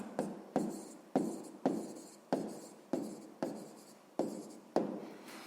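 A pen writes out a sixth-grade maths solution, the figures for a square's change in area. About nine crisp, evenly spaced strokes and taps sound close and quiet, each fading quickly, with no talking.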